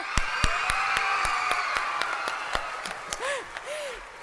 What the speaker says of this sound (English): Let's give a big round of applause for Kaya.